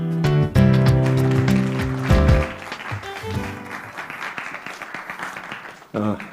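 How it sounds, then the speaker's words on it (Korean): A burst of applause from a forum audience welcoming a speaker, clapping that swells and then fades while a voice speaks over it. "메타시티 포럼 김인환 상임대표님을 힘찬 박수로 모셔보겠습니다"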